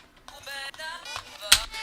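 A short melodic sample played fairly mono, washed in reverb with ping pong delay echoes bouncing after each note, ending in a sharp bright transient; quiet and sparse, with no speech.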